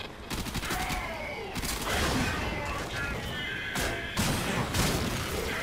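Rapid bursts of gunfire in the video game Warframe, dense and continuous over the whole stretch with loud crashing impacts, no speech over it.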